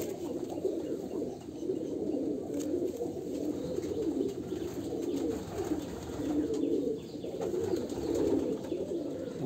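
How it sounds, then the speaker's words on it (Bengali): Domestic pigeons coo steadily in low, rolling phrases at a home loft, close and continuous throughout, with a few faint chirps and no talking. "এই পায়রা উঠছে আমার বাড়িতে।"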